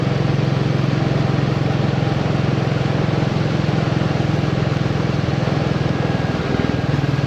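A Royal Enfield Bullet 350 single-cylinder engine with a decat exhaust runs with a loud, steady thumping beat, close and continuous with no change in pace, and no voices over it.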